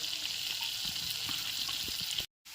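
Chopped garlic fries in melted butter in a wok, giving a steady, close hiss of sizzling with faint stirring taps. The sound cuts out abruptly near the end.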